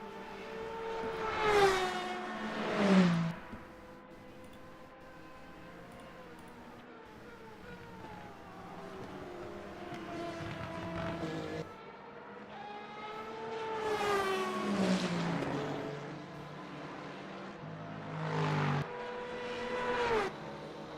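Ferrari LMGT3 race cars in a racing video game at Monza, engines revving and rising through gear changes as cars run toward Ascari, with a few louder passes and no talk.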